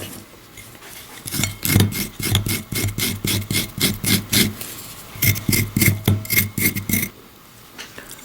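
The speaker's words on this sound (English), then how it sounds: "cutting off the ends of the ginger and then peeling off the skin" Knife scraping the skin off a ginger root, a fast run of rhythmic rasping strokes in two bursts, close and fairly loud, with no talk.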